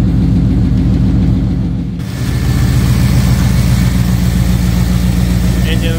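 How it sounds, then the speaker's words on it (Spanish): A Chevy 5.3 V8 idles steadily and loudly up close, a smooth low rumble with an even firing pulse that briefly dips around two seconds before settling back into its constant idle. "Engine is running perfect."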